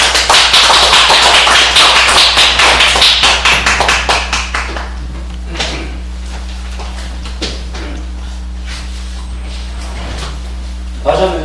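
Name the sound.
audience applause welcoming a lecturer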